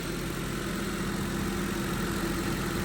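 A car engine idles in a steady, continuous drone with the cabin doors open, an even unbroken hum and no talking.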